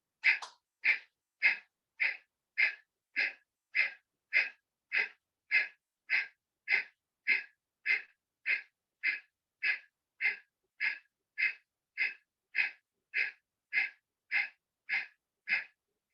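Kapalbhati yoga breathing: a long steady series of about twenty-five sharp, forceful nasal exhalations, evenly spaced roughly every two-thirds of a second, close and clear with no talking.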